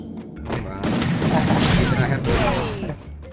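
Gunfire in a mobile action video game, a burst of rapid shots and thuds that builds to dense firing and fades within a few seconds.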